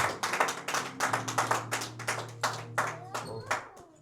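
Church congregation clapping hands in a quick steady rhythm, loud and close, with a low sustained organ or keyboard tone underneath and faint voices in the background.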